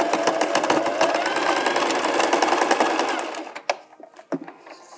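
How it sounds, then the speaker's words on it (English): Steady, close machine stitching as elastic is sewn along a fabric edge, running continuously for several seconds before stopping, followed by a few handling clicks. "You can secure the elastic by stitching along the edge."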